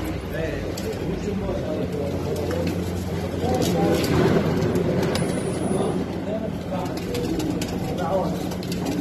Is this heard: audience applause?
no